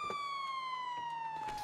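A steady electronic police siren tone in a video game, slowly sliding downward in pitch, rings continuously and fairly close with no talking over it.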